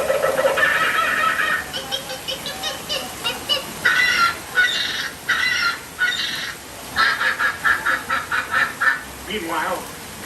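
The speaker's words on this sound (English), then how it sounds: "Suddenly, the treetops explode in a frenzy of outraged birds." Animatronic birds at the Tiki Room preshow in Magic Kingdom, Disney World, break into a frenzy of squawking and honking calls, loud and close, in choppy repeated bursts.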